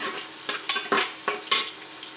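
A soybean biryani mixture is sautéed in a pan, with about six sharp scraping strokes of a spoon over a low sizzle, close by and rhythmic, without speech.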